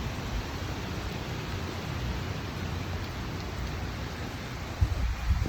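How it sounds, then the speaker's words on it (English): Heavy wind and rain during Hurricane Ian, a steady dense roar of rain and gusting wind filling the whole stretch with no let-up, with one brief thump near the end. "It's been a ton of wind, ton of rain"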